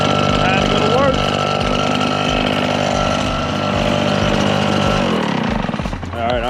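A small gas engine of a Red Max leaf blower runs steadily at idle on a cold day, a constant loud mechanical drone that shifts and dips slightly near the end.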